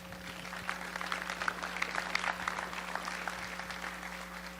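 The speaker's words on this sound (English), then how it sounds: "Evidently, that round of applause was too weak" Audience applause at a consumer VR conference as panelists and a moderator walk onto the stage: a steady, moderately faint patter of clapping lasting several seconds, with a constant electrical hum underneath and no speech.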